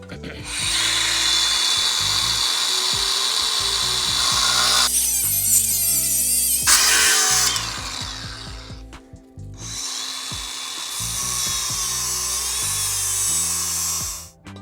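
A power tool trims the corner off a metal motor plate for a crosskart engine mount, whining loudly in two long cutting bursts separated by a brief pause and quieter tool noise.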